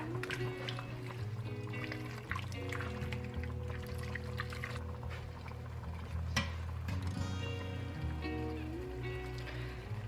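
Canned mushrooms poured into a pan with sausage, a faint liquid pour and trickle with soft clatter against a low, hum-laden kitchen background.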